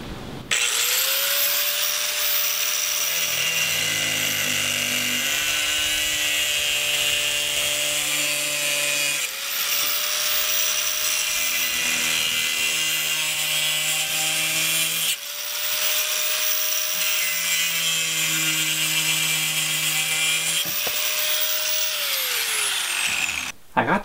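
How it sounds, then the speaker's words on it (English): An angle grinder cuts pieces for a homemade river pump, giving a loud, high, steady whine in several long passes. Each pass winds down between cuts, with lower tones underneath. "use the angle grinder to cut them down"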